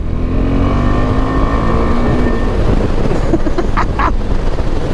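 A KTM motorcycle on the highway at speed gives a steady, loud engine drone with heavy wind rush buffeting the microphone throughout, plus a few brief higher bursts near the end.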